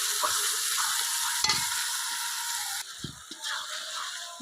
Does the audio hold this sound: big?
no